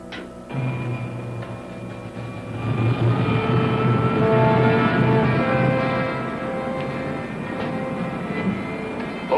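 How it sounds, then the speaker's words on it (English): A jet engine starts up in a 1953 sci-fi serial: a steady droning roar with whining tones that swells louder after a few seconds and then holds near and continuous. "Starting jet."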